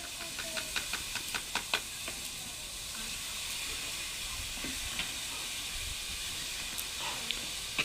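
Cauliflower frying in a pan in a village kitchen, a steady close hiss and sizzle with a few sharp clicks of stirring near the start and no talking.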